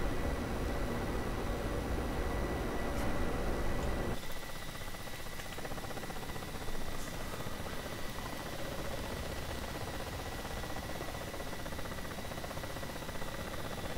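A helicopter flies over a Normandy 1944 map in the DCS flight simulator, a steady dense rotor and turbine roar that drops a little in tone partway through and holds constant throughout.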